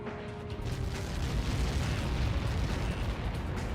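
Massive projectile impact explosion in the flight combat game Ace Combat 7, a deep sustained roaring blast that swells and rumbles for several seconds with no talk over it.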